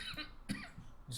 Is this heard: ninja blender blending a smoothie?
no